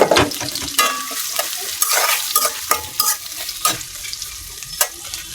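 Chopped onion and garlic fry with cardamom, cloves and spices in a hot pan, close and loud, with vigorous stirring that brings repeated scraping bursts over the sizzle.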